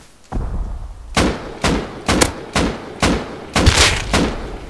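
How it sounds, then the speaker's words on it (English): A rapid series of sharp, loud video game gunshots, about seven bursts in quick succession with short gaps, punchy and close. "I can hear every gunshot"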